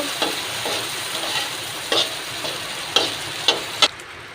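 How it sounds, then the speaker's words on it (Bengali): Onions fry in a pan with a constant close sizzle, broken by a few sharp clicks and taps of a utensil against the pan; no voices. "পেঁয়াজগুলো ভালো করেই ভাজা হয়েছে"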